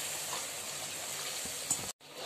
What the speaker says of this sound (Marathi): हे छान परतून घेते आता मी हा मसाला